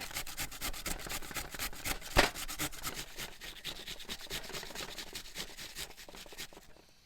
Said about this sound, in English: I'm just going to grate this potato into this bowl